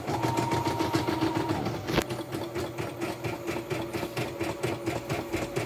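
A portable YOKO multifunction embroidery machine runs steadily after servicing and resetting, a continuous mechanical whir with rapid rhythmic stitching pulses and a brief knock partway through, close and fairly loud with no talking.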